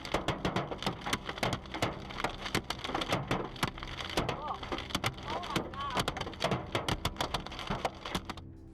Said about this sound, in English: Hailstones the size of golf balls start falling from the sky, hitting everything in their way, including this driver's unlucky car.